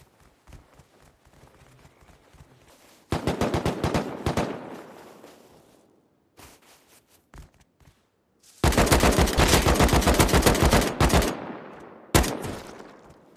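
Bursts of automatic AK rifle fire in the video game Rust, one rapid volley then a longer loud sustained burst with a short follow-up, separated by quieter stretches of background noise.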